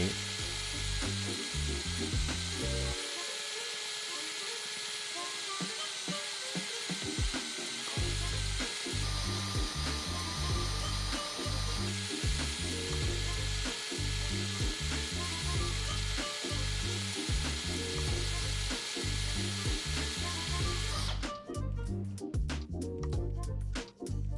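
A cordless drill with a Forstner bit whines steadily and bites into wood, with a pause partway through, then coarser grinding near the end; no voices.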